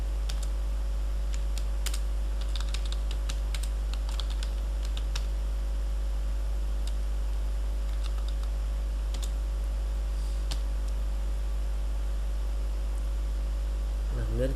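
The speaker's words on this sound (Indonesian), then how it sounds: "Jadi kita ketikkan insert into nasabah" Typing on a computer keyboard while entering a database insert command, with irregular clusters of light key clicks over a steady low hum. A voice speaks near the end.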